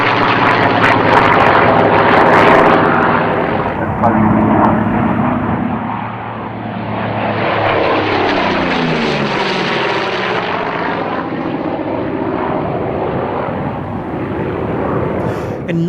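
WW2 warbird fighters, a Corsair and a P-40, flying low in a display, with a loud continuous propeller-engine roar that swells and Doppler-shifts as they pass close by.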